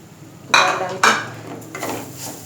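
A spoon scrapes and knocks against a pan while lentils are mixed into roasted gram flour (besan), giving two sharp clanks followed by a softer scrape.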